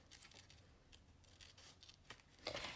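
Scissors snip through a paper collage piece in a quiet room, a series of soft, close, crisp cuts with a slightly louder snipping flurry at the end.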